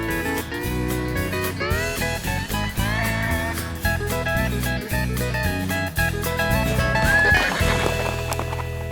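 Horses at the Appleby horse fair in Cumbria, with whinnies and neighs rising over clip-clopping hooves and a busy, layered background that carries on without pause.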